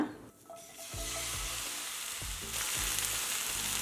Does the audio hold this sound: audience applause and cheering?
no